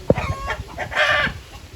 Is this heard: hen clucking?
yes